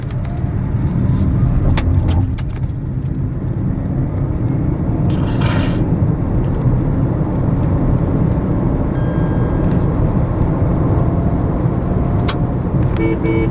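A Tata Tiago EV electric car pulls hard in sports mode, with a continuous loud low road and tyre rumble throughout and a few brief higher noises from passing traffic outside.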